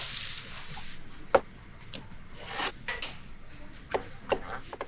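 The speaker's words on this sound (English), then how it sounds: "Slice into thin half rings and sauté in the same pan." Thin half rings of onion sautéing in a pan used for pork ribs, a low steady sizzle with scattered clicks and scrapes of a utensil against the pan, no talking.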